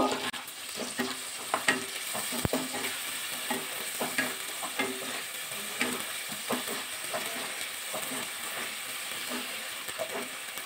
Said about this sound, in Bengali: এবার আন্দাজে লবণ, পরিমাণ হলুদ দিয়ে এবার ভালো করে মশলাটা কষিয়ে নেব।